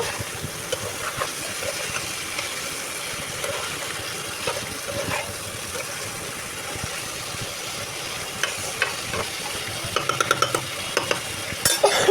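Young hilsa fish (jatka) sautéing in a pan for a curry, with a steady close sizzle throughout and scattered clinks and scrapes of stirring that grow busier toward the end.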